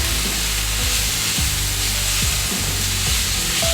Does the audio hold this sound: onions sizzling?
yes